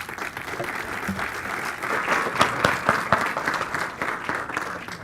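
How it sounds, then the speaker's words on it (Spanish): An audience at a lecture on gender-based political violence gives steady applause, a continuous crowd clap with a few sharper individual claps standing out midway. "Demos un fuerte aplauso a la maestra Roselia Bustillo Marín para que inicie con su presentación."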